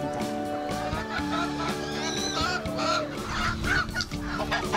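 On a farm, chickens rush in to eat special feed, with busy clucking and squawking from several birds close by, mixed with background voices.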